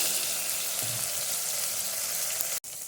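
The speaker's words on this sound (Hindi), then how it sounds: "इसे भी हल्का सा फ्राई करेंगे" Garlic, ginger and green chili paste sizzles and crackles steadily in a hot pan, a close, constant frying hiss with a brief cut near the end.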